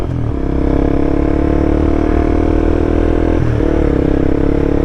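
Honda CBR300R motorcycle engine revving hard in first gear up toward 6,500 RPM, a loud steady buzzing drone close by that dips briefly near the upshift point then resumes its high, even whine.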